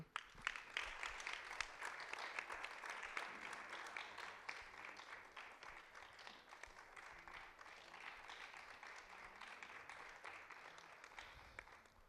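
An audience applauds steadily at a youth climate action event in Ghana, a dense, even wash of clapping that holds for about twelve seconds at moderate distance, with no talking over it.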